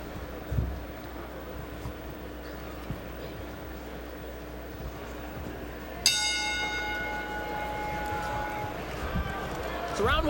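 A boxing ring bell clangs to start round one of a heavyweight bout, a single bright ringing strike that decays slowly over a noisy arena crowd and background murmur.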